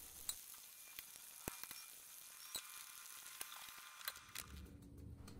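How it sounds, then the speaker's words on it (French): Beignets deep-frying in hot oil, a faint steady sizzle with scattered small pops and crackles, heard close and alone. "On fait frire les beignets."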